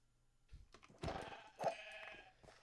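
Sheep in the video game Minecraft bleat quietly, a couple of short wavering calls close together, with soft clicks and game sounds around them and no talking.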